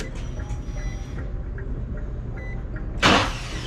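A G35 car engine with a replaced starter cranks with a rhythmic whirring for a few seconds, then catches with a sudden loud burst as it fires up, close by.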